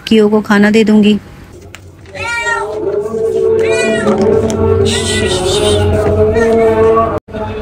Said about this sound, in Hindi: बाहर बिल्ली थी, वो म्याऊं म्याऊं करके मेरे पैरों में लिपटने लगी